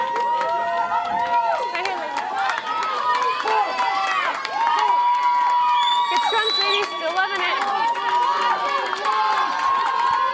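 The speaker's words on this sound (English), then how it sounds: "You can hear the fans on the sideline cheering on our ladies in this championship match." Fans on the sideline of a women's rugby championship match cheer and shout continuously, a lively crowd of many voices rising and falling in pitch, fairly close and loud.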